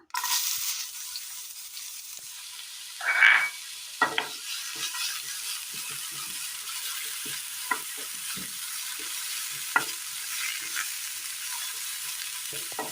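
Chopped onion sautéing in oil in a pan, a steady soft sizzle running throughout with a few louder stirring scrapes and clinks scattered over it, no voices.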